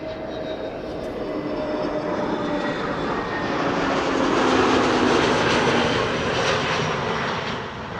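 An EasyJet Airbus A320neo landing at Amsterdam Schiphol, its engine whine and rushing jet roar swelling as it passes close by, peaking midway, then easing off, with no one speaking.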